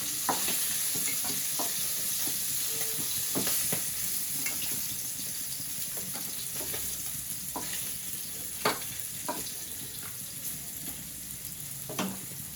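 Fish and onions fry in a pan with a steady sizzle, broken by occasional stirring scrapes and clicks close by, with no talk.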